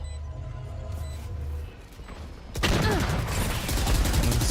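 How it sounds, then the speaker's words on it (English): Bursts of rapid gunfire erupt in a five-on-five esports tactical shooter match, first distant and muffled, then suddenly loud, close and sustained in a dense rattling fusillade. "The gunshots are flying"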